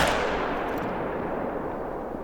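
A single hunting rifle shot rings out in a hunting video game set in the Yukon Valley, a sharp report followed by a long rumbling echo that fades slowly, with no voices.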